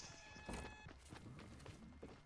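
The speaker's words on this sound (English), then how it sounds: "I gotta hear their footsteps. They looking for me." Enemy footsteps in the Fortnite video game, quiet repeated steps at an irregular pace with faint game ambience around them.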